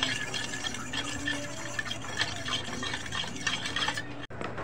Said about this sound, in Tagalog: Then mix again.